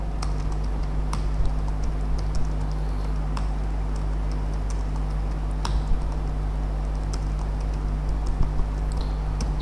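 Computer keyboard typing while names are entered into an Excel spreadsheet, a steady patter of light key clicks with a few sharper taps, close up over a constant low electrical hum.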